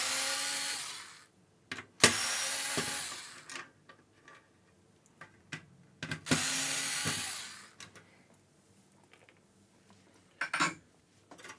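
Screws being removed from a PlayStation 1 console: sharp metallic clicks and ticks, a couple of longer rasping scrapes and scattered light taps, close up with no talking.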